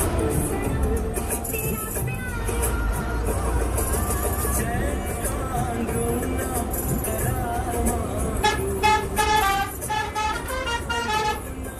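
An HRTC bus on the Shimla to Kaza route sounds its horn at a stop in Hurling, a busy, steady road-traffic rumble with repeated honking pulses toward the end.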